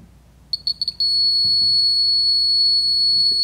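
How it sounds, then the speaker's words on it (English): Piercing high electronic alarm tone from a Model 26-1 monitoring unit, starting with a few short beeps and then holding a steady loud continuous tone, heard alone with no talk. "pressing the OK button will acknowledge the alarm and turn off the audio."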